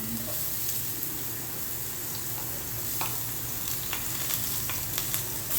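Garlic and onion sizzle steadily in a hot pan, a continuous close frying hiss with occasional light pops and utensil ticks, no talking.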